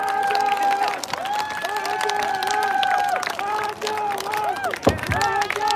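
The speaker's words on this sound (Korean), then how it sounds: "큰 박수 보내주시기 바랍니다" A crowd at an election campaign rally claps and cheers amid chatter, with loud horn-like tones and voices mixed into the applause.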